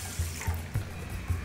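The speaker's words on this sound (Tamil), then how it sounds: "இப்போ அந்த கப்பில் அரிசி போடுறேன், இப்போ தண்ணி போடுறோம்." Water is poured from a tap into a cup of rice being soaked for fenugreek kali. A close, steady trickle and splash runs throughout, with soft low thumps at intervals and no talking.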